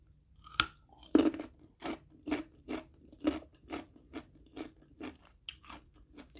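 Someone close by chews fried bird with mui leaves, giving loud crunchy bites followed by a steady rhythm of about a dozen chomps spaced roughly half a second apart. There is no talk, only quiet background between the bites.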